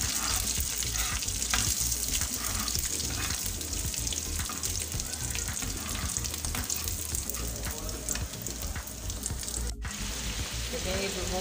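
Beef pieces fry in hot oil in a home kitchen, a dense continuous sizzle with occasional stirring scrapes throughout.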